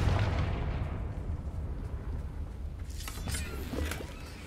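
A Confringo explosion spell goes off in the video game Hogwarts Legacy, a loud, rumbling blast with crackling bursts that swells and sustains for several seconds, with no talk over it.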